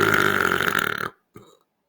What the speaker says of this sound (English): I'm going to burp with this mask on.